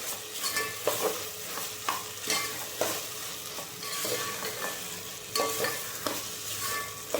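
Vegetables with ginger-garlic paste fry in a pot for vegetable biryani, a steady close sizzle broken by repeated sharp scrapes and clacks of a spoon stirring against the metal, with no talking.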